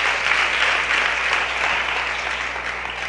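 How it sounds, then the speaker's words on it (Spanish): A large audience claps loudly and steadily at a live event in Tzucubal, Nahualá, the applause a dense continuous wash with no break. "brindar fuertes aplausos"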